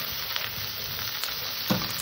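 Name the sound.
sautéing fish curry masala in a pan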